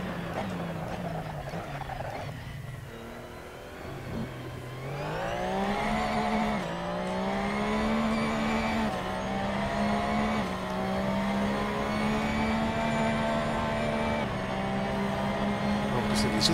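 A Porsche race car in the Assetto Corsa racing game on the Red Bull Ring in Austria, its engine droning and climbing steadily through the revs, loud and continuous, with someone talking over it at times.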